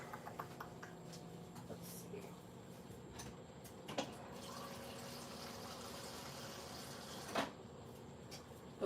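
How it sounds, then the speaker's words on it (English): Water poured into a pot for a double batch of holiday toffee, a steady filling trickle over several seconds in a kitchen, punctuated by a few clinks and knocks. "I think I'm going to add some water"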